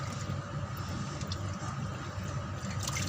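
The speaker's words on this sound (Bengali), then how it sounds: "এখন আমরা ফুলকপিগুলো ধুয়ে নেবো ভালো করে।" Cauliflower being washed in water, a continuous soft splashing and running-water wash close by, steady for the whole stretch.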